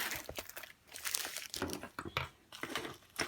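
A diamond painting kit being pulled out of its plastic packaging, with bursts of crinkling and rustling plastic, close and irregular, pausing briefly between handlings, and no talking.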